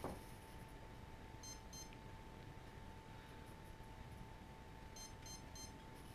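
An Align T-Rex 150 DFC RC helicopter's electronics emit faint, high programming beeps in short clusters, a pair early on and a quick run of three later, over a steady low hum.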